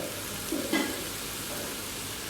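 Stir-frying in a pan for a dry holy basil dish, a steady soft sizzle with a couple of brief scraping stirs, close and quiet.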